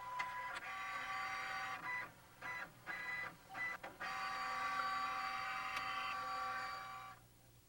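An inkjet-style home printer runs continuously as it feeds a page, with steady mechanical whirring broken by several short pauses and carriage shifts, fairly faint and with no talk.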